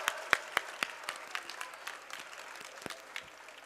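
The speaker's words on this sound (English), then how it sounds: "So they all deserve a loud round of applause." A small audience at a school annual day gives scattered applause for the band students, with a few sharp individual claps standing out over a soft, thin patter.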